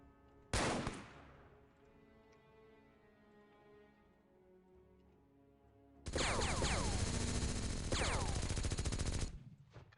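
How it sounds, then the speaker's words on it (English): A minigun in The Xcom Files video game fires in one long, loud continuous burst lasting several seconds, after an earlier sharp single blast that fades out. "Miniguns are so much fun to shoot."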